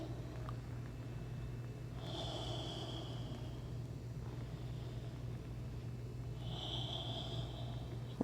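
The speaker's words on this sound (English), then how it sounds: "Still exhaling through the mouth." During a yoga flow for the neck and shoulders, two soft, breathy exhales through the mouth come several seconds apart over a low, constant background hum.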